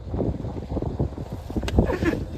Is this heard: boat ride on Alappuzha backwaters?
yes